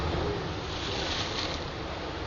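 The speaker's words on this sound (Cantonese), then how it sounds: "海浪經常拍上岸嘅" Sea waves driven by a high tide at Lei Yue Mun wash against the shore in a steady, loud, wind-buffeted roar with no distinct breaks.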